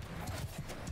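Horse hooves thudding at a quick gallop in Bannerlord, with rain on the battlefield, close and steady with a soft wash of background noise.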